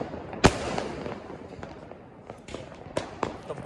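Diwali firecrackers going off all around, with a loud close bang followed by several sharper, more distant cracks over a crackling, noisy background, while a person talks faintly.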